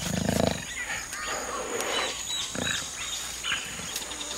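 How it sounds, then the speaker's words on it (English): A jaguar lets out a short, deep roar at the start, followed by quieter rustling ambience and faint outdoor background sounds. "Jaguar."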